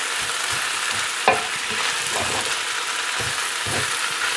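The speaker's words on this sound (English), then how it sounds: "Get your rice nice and toasty." Rice toasting in a hot pan, a steady dry sizzle with repeated scraping stir strokes and one sharper knock of the spoon against the pan, close and continuous with no talking.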